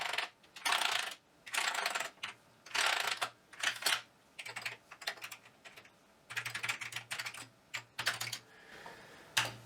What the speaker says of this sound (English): test the keyboard.